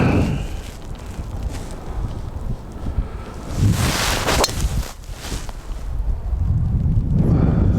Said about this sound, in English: the wind is coming this way as well